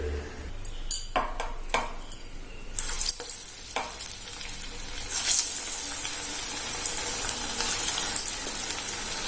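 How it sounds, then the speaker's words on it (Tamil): Snake gourd vadas frying in hot oil, with a steady sizzle and bubbling throughout, punctuated by clinks of a utensil against the pan and occasional stirring. "இந்த வடைய அடுத்தது எண்ணெயில சேர்த்தலாம்"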